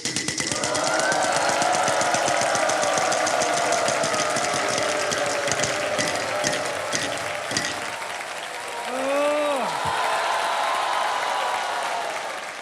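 A Wheel of Fortune prize wheel spins on a game show stage with rapid clicking that slows, under steady applause from the studio crowd and a brief rising tone near the end.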